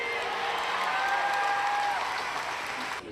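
A rally crowd gathers outside New South Wales Parliament House, steady applause and crowd noise filling the air at a constant level throughout, with faint voices woven into the din.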